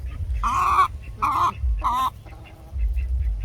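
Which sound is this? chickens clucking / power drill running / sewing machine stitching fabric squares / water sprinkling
chickens clucking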